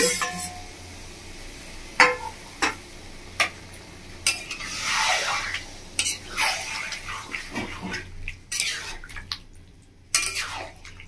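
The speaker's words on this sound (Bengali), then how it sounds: "একটু জলটা দিয়ে দিই।" Water poured into a pot of Bengali-style chicken kosha, setting off surges of hissing sizzle between sharp knocks of a spoon against the pot, close and fairly loud.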